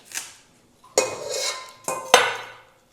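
Celery is sliced with a knife against a board for pickled cabbage, several sharp crisp cuts and clatters, close and clear with brief pauses between strokes.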